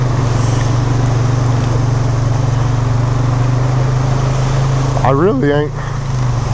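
A 2021 Polaris Sportsman 570 ATV engine drones steadily and loud throughout a ride, with a voice speaking briefly near the end over the running motor.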